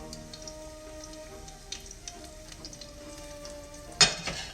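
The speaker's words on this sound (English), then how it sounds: "We have our garlic sizzling in here." Garlic sizzles in oil in a pan, a soft crackling fry with light spatter, steady and faint, with a louder sharp clatter near the end.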